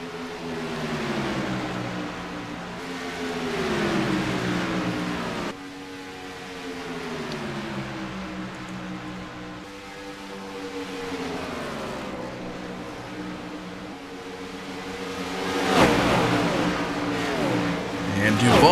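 ICAR Cup race cars at Atlanta Motor Speedway, engines droning and rising and falling in pitch as they pass, under continuous excited commentary from a race announcer.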